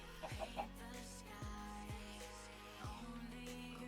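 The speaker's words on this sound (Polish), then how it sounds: "O, mamy kury." Chickens in the Minecraft video game give several distinct clucks with falling pitch, spaced irregularly and heard alone at low volume against a steady background hum.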